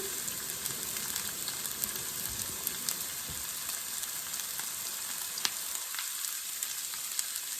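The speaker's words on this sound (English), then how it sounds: "The other onion takes a while because it has to be really cooking well." Onions frying in a pan for mujaddara, a steady close hiss with small scattered pops and crackles, continuous and even throughout.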